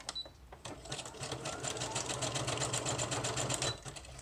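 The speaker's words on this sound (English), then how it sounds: "Oh, I see a place that needs to be sewn down." A sewing machine runs close up, stitching down pieced frankenpaper for a journal page. A few separate clicks come first, then a dense, even stitching burst runs for several seconds and stops abruptly.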